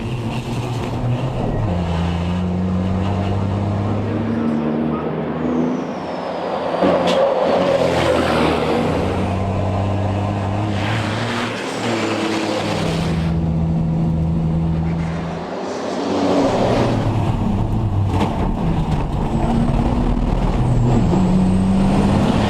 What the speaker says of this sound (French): Aujourd'hui, le camion, sur une base Renault Trucks, on est sur un moteur DXi 13 qui fait 1260 chevaux.